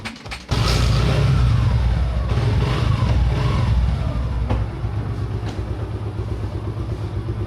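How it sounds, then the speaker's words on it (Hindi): Suzuki Gixxer SF sport motorcycle with a nearly dead battery, kick-started into life after a short click, then running loud and close with a revving and settling engine note. "अब इसे किक से शुरू करना पड़ेगा।"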